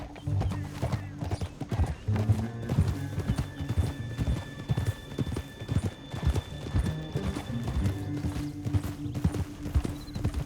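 Horses gallop in Red Dead Redemption 2 with rapid, rhythmic hooves clip-clopping close by, a horse neighing, and tack and movement noises mixed in over about ten seconds.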